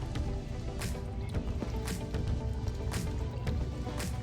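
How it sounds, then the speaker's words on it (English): A tablespoon of Worcestershire sauce is poured into a pan for creamy garlic chicken legs, giving wet drips and splats at an irregular rhythm over a low, steady background rumble. "next we're going to add in our Worcestershire sauce"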